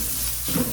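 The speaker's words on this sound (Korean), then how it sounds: "여기에 밀가루를 넣고 룰을 볶듯이 농도를 잡아줍니다" Flour being stir-fried in a pan like a roux gives a brief, soft sizzle with a light scrape of stirring, close and quiet.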